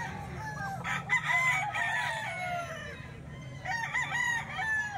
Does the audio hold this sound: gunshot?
no